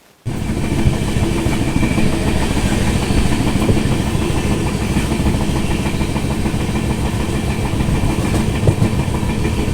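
Train passing alongside on the Dibrugarh Rajdhani Express route near Bareilly Junction, heard from inside a carriage: a sudden onset of steady, loud rumbling and rattling wheel noise that continues unbroken.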